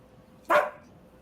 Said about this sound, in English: What are you barking at? You're inside.